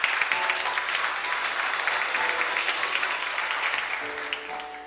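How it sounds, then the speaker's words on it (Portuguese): A church congregation breaks into loud, sustained applause that fills the hall, gradually thinning toward the end as a voice starts to come through. "Então dê um aplauso a Jesus."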